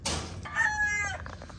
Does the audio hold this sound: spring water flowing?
no